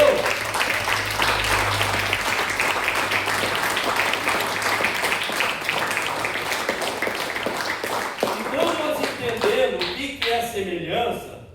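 A church congregation bursts into loud, dense applause that fills the hall, then thins out as a preacher resumes speaking.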